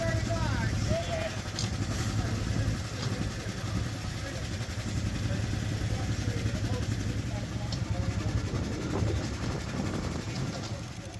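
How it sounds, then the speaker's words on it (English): A tractor engine drones at low revs while pulling passenger carriages on a 9-inch gauge railway in Faversham, a steady, moderately loud rumble with people talking over it. "why is there a tractor pulling loads of people?"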